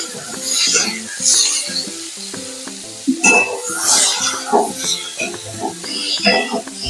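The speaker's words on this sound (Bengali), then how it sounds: "তো চলুন আমরা আলুটা ভেজে রাখি" Potatoes fry in a pan while being stirred, with a steady crackling sizzle broken by repeated scraping and clinking of a utensil against the pan, close and fairly loud.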